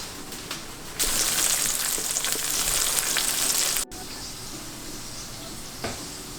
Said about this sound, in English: So I added all the zucchini inside of the pan. I'm kind of letting it simmer.